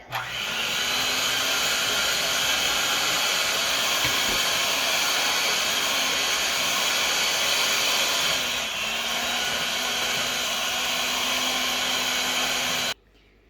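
An electric hand mixer whirs continuously and loudly for about thirteen seconds, mixing sugar cookie dough for Valentine's Day, its steady motor whine dipping slightly midway before cutting off abruptly.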